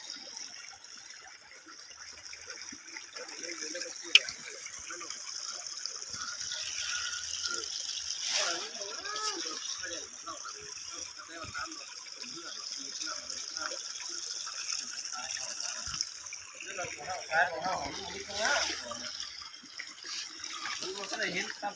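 Water from a small waterfall on a rural farm plot flows and trickles in a continuous soft hiss at moderate distance, with occasional splashes and voices talking faintly over it.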